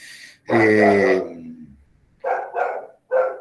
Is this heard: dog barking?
yes